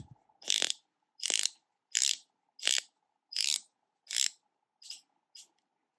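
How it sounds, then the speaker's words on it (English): Rotating bezel on a bead-blasted Squale 1521 dive watch with a coin edge turned in a series of eight crisp ratcheting click bursts, each about half a second apart, close and clear with no talking. "Yeah, good bezel action"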